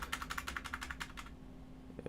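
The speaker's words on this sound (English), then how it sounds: "My keyboard." Rapid keystrokes on a computer keyboard while working through trading charts, a quick close burst of clicks for about a second and a half, then near silence with one or two last taps.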